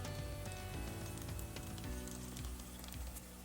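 Potato cutlets fry in hot oil in a pan, giving a steady, dense sizzle that stays loud and even from start to finish, with no talking.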